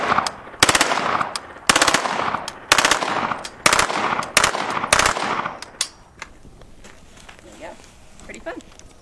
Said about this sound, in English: So the trigger, you have to depress it all the way for it to be full auto.